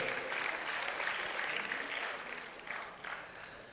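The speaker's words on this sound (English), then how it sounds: "please a resounding applause for yourself wherever you are seated" A seated crowd at a World Environment Day gathering applauds, producing a broad, steady wash of clapping that holds level and then eases off slightly toward the end.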